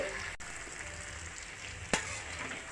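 Chicken fries in oil in a pan with a soft, steady sizzle, broken by a quick tap near the start and a single utensil scrape later on.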